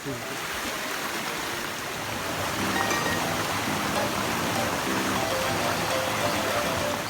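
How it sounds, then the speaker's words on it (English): A waterfall and stream along a nature walk near Ajijic, Mexico, make a steady, full rush of falling and flowing water, loud and continuous throughout with no break. "We're going up to a waterfall and we're going to see what it looks like up there."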